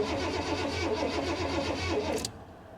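An older car's engine cranks over and over with a rhythmic whirring churn, loud and close, without catching, then the starter cuts off abruptly near the end, leaving a quieter hum.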